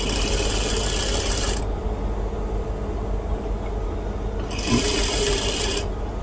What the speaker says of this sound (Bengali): এক পাশে এভাবে সেলাই দেওয়ার পরে অপর পাশে সেলাই দিতে হবে সেম একই নিয়মে